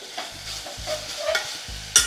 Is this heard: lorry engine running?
no